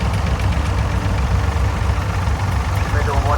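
A vintage David Brown tractor engine idles at a rural vintage rally, a loud steady low chugging rumble with a knocking beat, heard up close and continuous.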